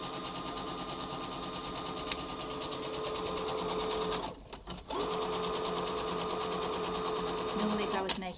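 A sewing machine runs a zigzag stitch along a cloth face mask seam, its motor humming in a fast, even chatter. It pauses for a moment midway, then runs steadily again, loud and close.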